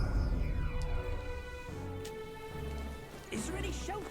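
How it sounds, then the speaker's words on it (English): Rain falls steadily in the video game Metaphor: ReFantazio, a soft continuous patter with game music and a faint voice over it. "Oh, it's raining over there."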